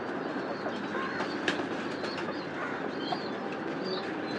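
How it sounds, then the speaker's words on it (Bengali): Pet pigeons on a home rooftop, with a faint soft cooing among a steady outdoor ambience and no talking. "এই যে কবুতরগুলা"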